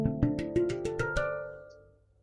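A dented metal percussion instrument from a large instrument jam is struck about seven times in a steady rhythm, each ringing, metallic hit overlapping the last before the tone decays alone at close range.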